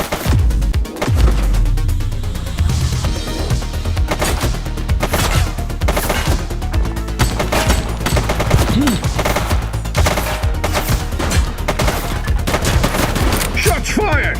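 Gunshots in the video game The Precinct crack out in loud, rapid bursts, with machine-gun fire and heavy impacts stacked over one another throughout a sustained firefight.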